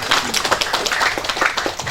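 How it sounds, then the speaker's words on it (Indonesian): An audience at an official gathering claps in a dense burst of overlapping hand claps, close and fairly loud, continuing steadily for the full two seconds. "tepuk tangan itu."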